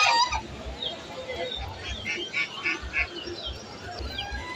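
Chickens cluck and squawk repeatedly at the Feira do Ouro Preto animal market, short close bursts over a busy crowd murmur, with people talking nearby.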